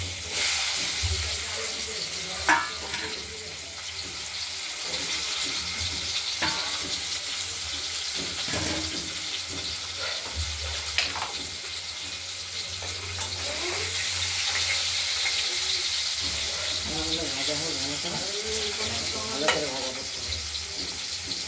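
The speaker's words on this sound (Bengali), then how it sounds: "এবার একটু ভাজা ভাজা হলেই এর মধ্যেই আমরা আলুগুলো ছেড়ে দিলাম।" Potatoes fry in oil in a pan with a loud, continuous hiss and sizzle close by, broken by stirring scrapes and occasional clatters, with no voices over it.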